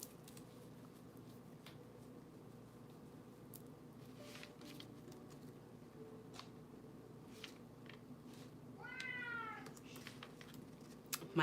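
A pet cat lets out a short, rising meow near the end, fairly faint against a steady room hum and scattered light clicks, with no one speaking.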